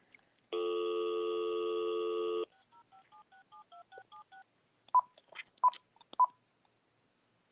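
A telephone dials a sound quality test line: a steady two-tone signal holds for about two seconds, then a quick run of short DTMF keypad beeps follows, with a few sharp clicks and tones near the end and no talking.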